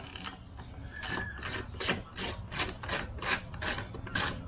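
A nut comes off a Honda EU2000i generator with a quick series of about nine close, evenly spaced ratcheting rasps, each a short scratchy burst, in a quiet setting.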